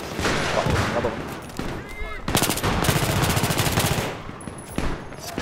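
An AS Val rifle fires rapid automatic bursts in a video game, the strongest volley packed into the middle of the clip, with game noise and a voice talking throughout.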